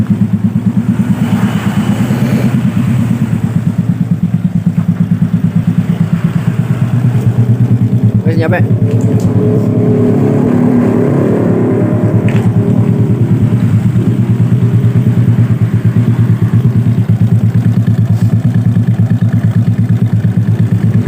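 A reassembled Yamaha Vega motorcycle engine, just fitted with its front engine section and magneto block, idles loud and close in a steady, even drone for the whole stretch, with a brief voice speaking partway through.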